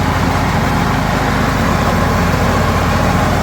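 A 2004 John Deere L110 lawn tractor's engine, revved back up, runs at a steady, loud rumble, droning evenly without pauses.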